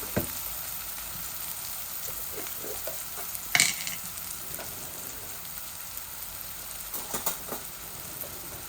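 Onions frying in a pan for a chicken and egg curry, a steady low sizzle with a few spoon scrapes and taps as they are stirred, one louder clatter midway, close and fairly quiet with no talking.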